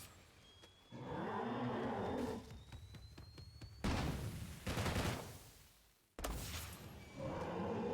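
Loud gunshots from a weapon in State of Decay 2, a few heavy booming blasts in sequence, each followed by a ringing tail, with no voices.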